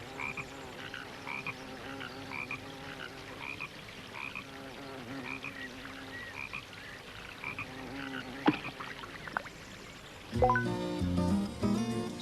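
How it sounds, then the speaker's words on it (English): A frog croaks in a pond in a 1990 UK children's programme, with steady rhythmic croaks repeating near and clear before a different sound takes over at the end. "On Saturday, Tom saw a frog in the pond."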